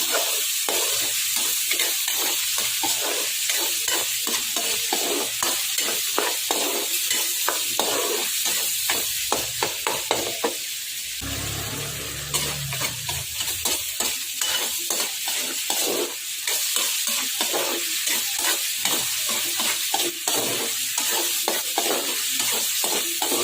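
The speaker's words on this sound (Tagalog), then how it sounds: "Ipirito na natin to hanggang sa maging golden brown at para mamumutok." Chicken feet deep-frying in hot oil until golden and crisp for chicharon, a dense steady sizzle with rapid popping and crackling throughout, briefly dipping into a low rumble midway, close and loud with no talking.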